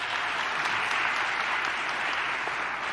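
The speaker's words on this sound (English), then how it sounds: "we need to give State Rep Tarver another round of applause" Steady, dense applause from a press conference audience at a health care announcement, sustained and fairly close for the whole stretch with no voices rising above it.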